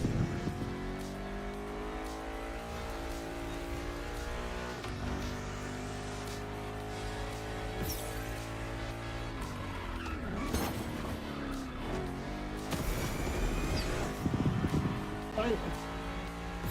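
Racing cars in The Crew Motorfest video game at maximum difficulty: engines rev and shift up and down, with tire squeals and passing whooshes, while a player talks over the game sound throughout.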